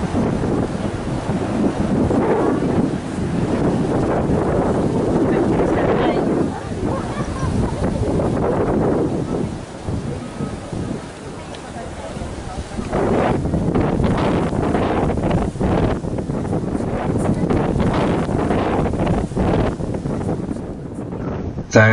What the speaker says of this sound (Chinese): 现在顶着大风上山